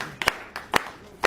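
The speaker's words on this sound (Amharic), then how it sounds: "እንግዲህ እስኪ ጭብጨባ ሁላችን" A few sharp handclaps at a car gift ceremony, three separate claps spaced about half a second apart, close and fairly loud against a quiet room.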